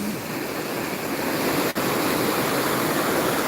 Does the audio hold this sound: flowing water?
yes